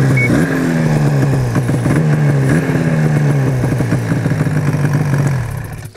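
A Ski-doo snowmobile engine catches and runs with uneven throttle blips, a loud close buzzing drone with rhythmic clatter and small rev jumps, cutting off at the end.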